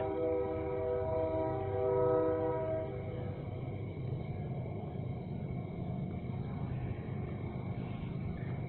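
A train rumbles past at a distance at night beside a campsite, a sustained horn tone fading after a few seconds while a low steady rumble continues.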